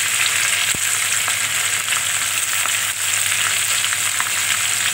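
Hilsa fish pieces fry in hot oil in a pan, seasoned with black cumin, producing a loud, continuous close sizzle and crackle with a brief clink of utensil, no talking.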